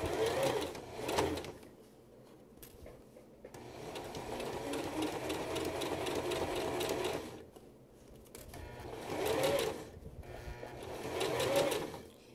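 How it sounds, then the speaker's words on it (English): A sewing machine stitches fabric in several bursts of rapid whirring and clattering, with short pauses between runs, heard close and alone. "So you just sew up to the dot if you want, or just a little bit more."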